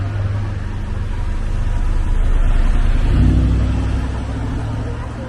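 A Lamborghini SVJ supercar drives past outside the Ferrari dealership in Monte Carlo, its engine a loud, steady roar that swells to a peak midway and then fades slightly as it moves on.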